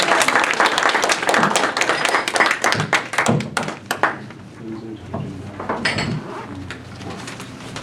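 Audience applause at a Washington commemoration of Syngman Rhee's 150th birth anniversary: dense, steady clapping for about four seconds, then it thins out as a voice begins speaking over the fading claps.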